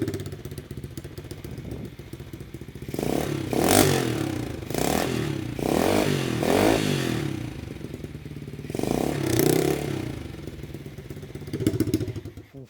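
A small pit bike engine idles and then revs in several sharp bursts, its exhaust note rising and falling close by.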